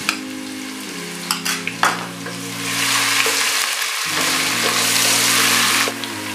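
Ginger garlic paste sizzles with browned onions in a pot for mutton tahari pulao, a steady loud frying hiss with a few stirring clinks, over low background music.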